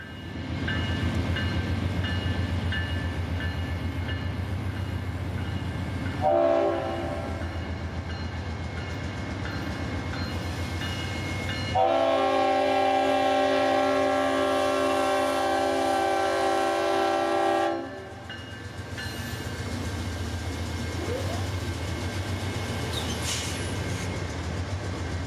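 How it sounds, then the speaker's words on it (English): A train rolls past at Irondale, Alabama, with a continuous rumble of wheels on rail broken by two long horn blasts, the second held for several seconds before the passing noise carries on. "10 tons of train coming straight for them"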